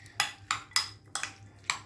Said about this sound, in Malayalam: അങ്ങനെ നമ്മളത് ഇളക്കുവാണ്